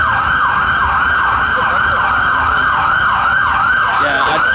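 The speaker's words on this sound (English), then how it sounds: "There's another van coming up, and another ambulance actually" Loud, close ambulance siren on a Newcastle street wailing in a steady repeating up-and-down pattern, with road traffic rumbling underneath.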